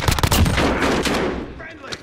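Rapid bursts of video game gunfire crackle loudly in the first second and a half, then thin out into a few fainter scattered shots.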